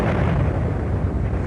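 A deep, sustained roaring rumble of a volcanic explosion evokes the 1883 eruption of Krakatoa, loud and dense with no break.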